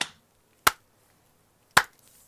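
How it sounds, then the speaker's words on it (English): Two sharp, isolated claps about a second apart, a deliberate slow clap, crisp and close in an otherwise quiet room. "Yeah, slow clap."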